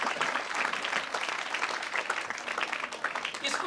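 A crowd at a gathering breaks into hearty applause, thick overlapping claps pulsing with slight swells throughout, with a few faint voices mixed into the clapping.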